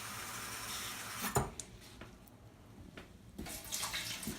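Hot water splashes and runs into a pan already holding vinegar for steaming blue crabs, a close, rushing pour with a couple of brief clanks and a louder surge near the end.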